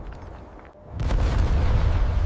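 A deep, rumbling rock-blasting explosion at an Iranian gold mine erupts after a brief lull and keeps roaring with heavy, sustained low rumble, loud and without any voices.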